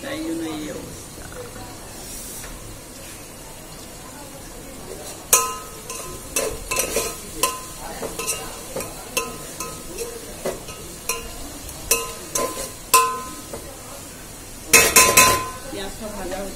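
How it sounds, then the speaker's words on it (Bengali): Onions fry in a pan with a low steady sizzle, broken by sharp clacks of a spoon or spatula stirring against the metal and a burst of scraping near the end; a voice talks over the cooking. "পেঁয়াজটা ভাজা হতে থাক, দেখো পেঁয়াজটা ভাজা হয়ে এসছে"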